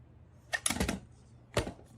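A Royal Quiet DeLuxe typewriter's mechanism clatters close up in two bursts, a quick run of sharp key and typebar strikes followed by a pause and another short cluster of mechanical clacks, with no voice over it.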